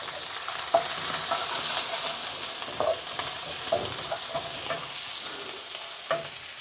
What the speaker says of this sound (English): now I'm going to add the onions and the chilies, some more aromatics